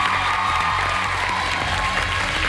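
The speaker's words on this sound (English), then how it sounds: "Give them a big round of applause" A studio audience at a Singapore Idol pre-finale show cheers and applauds loudly and steadily, a dense wash of clapping and whoops filling the whole stretch without letup.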